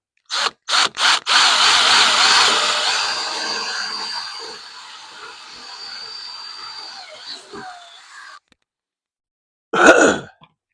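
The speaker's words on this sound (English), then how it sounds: "All you got to do is drill the rivet." A few short mechanical bursts, then a power drill whirs steadily for several seconds drilling out a rivet on an interior door panel before winding down; after a pause, one more short loud burst.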